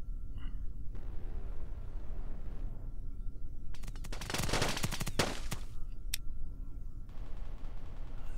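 A Goalkeeper close-in weapon gun in Kerbal Space Program with the BD Armory mod fires a loud rapid burst lasting about two seconds, a dense ripping roar, with quieter mechanical clicks before and after.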